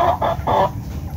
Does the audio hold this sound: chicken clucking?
yes